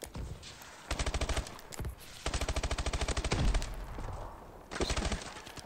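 Rapid bursts of automatic gunfire from the Speakeasy gun in a video game, three long rattling volleys separated by brief pauses, loud and close.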